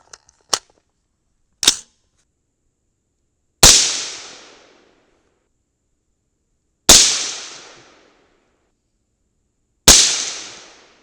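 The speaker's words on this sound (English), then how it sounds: "here's 3 more quick shots just to double check it" Three loud, close rifle shots from a 300 BLK with a Ballistic Advantage 10.3-inch Hanson barrel, spaced about three seconds apart, each a sharp crack with a ringing decay, preceded by faint clicks.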